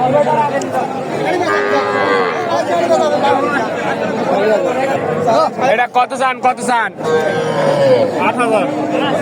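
Cattle, Sahiwal bulls and heifer calves, low and moo at a busy village livestock market at Raniganj haat, Ghoraghat, under loud crowd chatter and people bargaining nearby.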